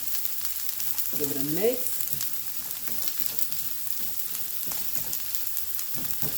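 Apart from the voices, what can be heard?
sauteing in butter and garlic in a pan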